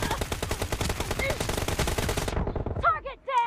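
Rapid SMG fire from PUBG Mobile rattles in a dense, loud continuous burst for over two seconds, then cuts off, followed by brief clipped voice-like sounds.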